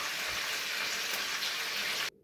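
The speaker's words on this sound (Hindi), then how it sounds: "तो अब जो है इनको फ्राई करूँगी इसमें।" Lamb shanks fry in hot oil with a little garlic, giving a loud, dense crackling sizzle that holds steady for about two seconds before cutting off.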